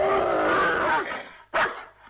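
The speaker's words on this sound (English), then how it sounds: "You've got a pretty neurotic dog there" A dog named Rex snarls in a long rough growl that trails off, then snaps out one sharp bark, close and loud.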